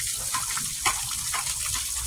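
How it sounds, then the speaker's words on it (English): Fresh countryside spring water running steadily while pots and pans are washed, a continuous close gush with small splashes and surges and no voices. "Here I am using it to wash the pots and pans that I have"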